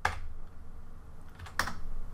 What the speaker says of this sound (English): And then I'm gonna type in times or star